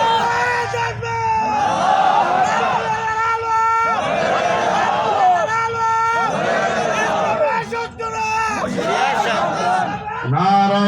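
A large crowd at a religious gathering loudly chants the slogan Naraye Takbir, with voices rising together in repeated swelling shouts that fill the space, each separated by short pauses.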